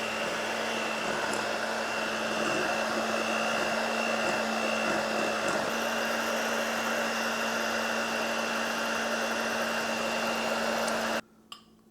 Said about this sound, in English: And you keep whisking this until it's cool.